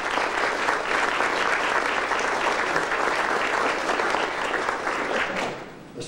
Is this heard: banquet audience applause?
yes